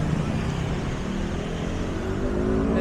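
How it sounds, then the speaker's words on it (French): Street traffic noise on Walking Street in Pattaya at night: a steady, dense roar of passing cars and engines, continuous and fairly loud, with no clear speech. "avec les bruits de Walking Street, ça va être incompréhensible"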